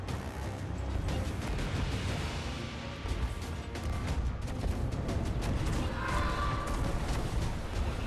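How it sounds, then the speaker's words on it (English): Cannon fire and a small explosion in the pirate ship game Sea of Thieves, with dense booming and crashing blasts layered over steady ship and ocean ambience across the whole stretch. "That little explosion actually helped us turn."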